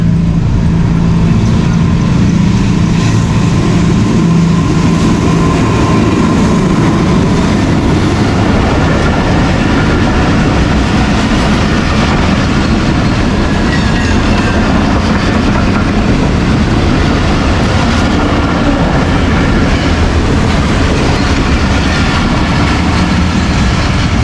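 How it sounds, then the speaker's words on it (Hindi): Rehman Baba Express on the Karachi to Peshawar run passing through Chak Jhumra Junction railway station, a steady loud rumble of rolling rail cars with wheel clatter sustained throughout, no talk. "अब रहमान बाबा कराची से पेशावर के लिए चक झुमरा रेलवे स्टेशन से पास कर रही है"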